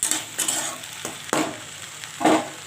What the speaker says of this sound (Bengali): হালকা করে একটু জল ছড়িয়ে দিয়ে একটুখানি ঢেকে দেবো